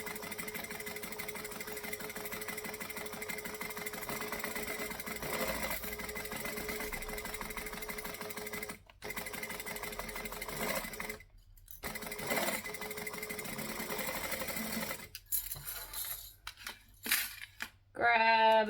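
A sewing machine stitches a basting seam on a travel bag, running in long steady whirring bursts with brief pauses, then shorter stop-start runs near the end.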